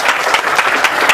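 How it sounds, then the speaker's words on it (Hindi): Seminar audience clapping in unison, a loud, close burst of many hands with a brisk, even rhythm, short and continuous with no speech. "एक बार ताली बजाइए"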